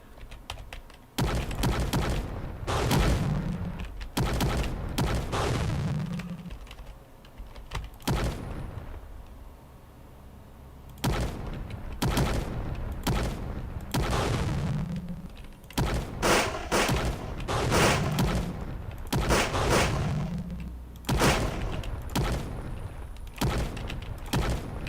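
Anti-tank guns and gunfire in a war video game, sharp heavy blasts and shot bursts arriving in irregular clusters separated by brief quieter gaps, fairly loud throughout.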